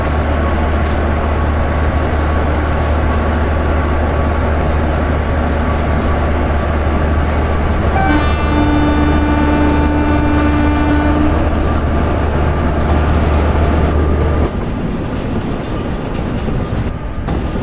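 Express train cab passing a goods train in Train Simulator Classic, a steady rumbling rail drone with rhythmic wheel noise and a brief horn-like tone midway, continuous and loud.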